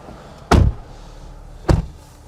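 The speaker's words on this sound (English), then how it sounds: "If you shut that door" Two solid thuds of an Audi SQ5 car door shutting, about a second apart, close by, over a quiet low background hum.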